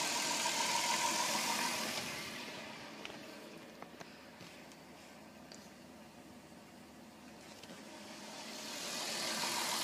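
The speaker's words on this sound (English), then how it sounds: "Seems quite happy with the hydrogen, my car does." A car engine idles steadily on hydrogen (HHO) assist, a low continuous hum that swells louder at the start and end and dips quieter through the middle.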